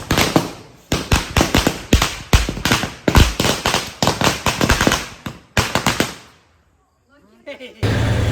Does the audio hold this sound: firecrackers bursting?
yes